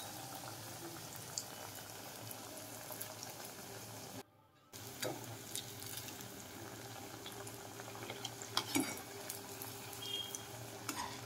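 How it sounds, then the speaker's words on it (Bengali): Jackfruit cutlets frying one at a time in hot oil, a steady dense sizzle and bubbling that runs throughout, briefly cutting out for a moment before resuming. "এইভাবে একটা একটা কাটলেট আমি ভেজে নেব।"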